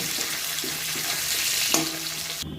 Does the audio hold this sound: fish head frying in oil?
yes